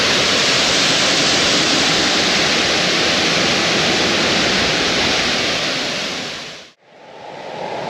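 A powerful waterfall in Colombia roars as a dense, continuous rush of white water, loud and close, then abruptly cuts out near the end before resuming.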